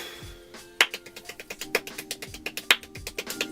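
Extremely fast hand clapping in the style of Eli Bishop, a rapid steady stream of crisp claps with occasional louder accents, heard alone and up close.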